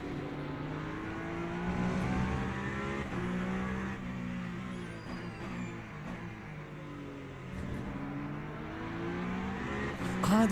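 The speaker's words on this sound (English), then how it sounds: "Ah, these are the LMP2s." In a Le Mans racing video game, LMP2 race cars run with layered engine drones that rise and fall in pitch as the cars pass, held at a moderate, steady level without talking.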